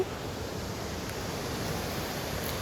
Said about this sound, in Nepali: यो चाहिँ हाम्रो गाउँको सुन्दर झरना हो, बिजुलीबाट निस्केको पानी।